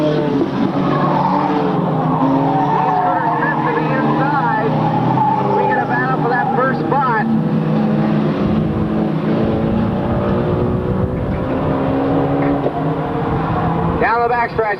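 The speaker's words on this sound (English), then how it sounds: "Cars going everywhere as we complete 1 lap." Race cars circle a short track in a 1998 race, a dense roar of several engines with rising and falling pitch and bursts of tire squeal, loud and continuous, with an announcer talking over it.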